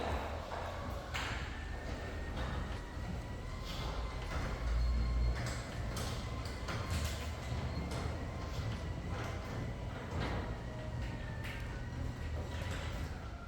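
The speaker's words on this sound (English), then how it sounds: "Let's see how silent or loud this garage door really is." Overhead garage door in a new luxury home opening: a quiet, steady mechanical rumble with occasional soft clicks and rattles, fairly faint and continuous throughout.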